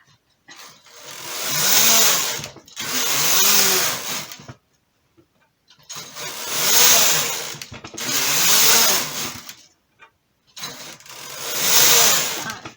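Knitting machine working rows on a pink bunny jersey: five long whirring carriage passes, each about two seconds, separated by short pauses, loud and close with no talk.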